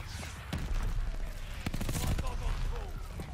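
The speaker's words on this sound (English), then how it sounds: "who is dropping just straight bombs on my head?" Bombs land in Call of Duty: Vanguard's Paradise map, heavy thuds and crackling blasts piling up amid sustained gunfire, loud and close with little letup.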